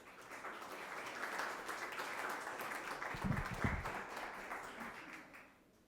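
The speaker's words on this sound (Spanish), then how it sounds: "así que un fuerte aplauso para Laura." Audience at a Startups Latam Week conference in Bogotá applauds quietly and steadily, a soft wash of clapping that peaks briefly, then fades out at the end.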